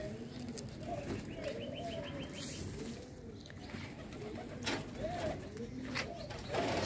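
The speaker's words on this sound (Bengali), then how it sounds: "তারপরে গেলাম আমার কবুতরগুলো ছাড়ার জন্য।" Pet pigeons coo in soft repeated bursts after being released outdoors, with occasional chirps and brief wing flaps over a steady low background hum.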